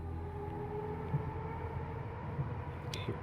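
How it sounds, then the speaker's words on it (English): Train ambience in the video game Eliza: a steady low rumble with a sustained hum, soft clanks at intervals and a brief high squeal near the end, with no talking. "So we're back at the train where we started the game"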